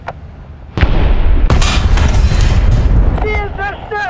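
A Kpz-70 tank cannon fires in War Thunder with two heavy, close booms in quick succession, followed by a long rumbling roar and a brief radio-style voice near the end.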